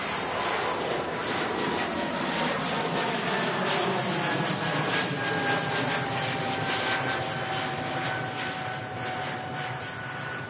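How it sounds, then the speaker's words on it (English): A Swiss Airbus A220 airliner rotates on takeoff at Manchester Airport, its jet engines a loud, steady, broadband roar with a thin rising whine, sustained throughout. "beautiful Swiss A220 rotating kit"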